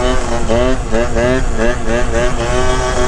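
A scooter with a cheap aftermarket performance exhaust rides at night, its engine droning loud and close with rising and falling revs and a slightly gargly tone throughout.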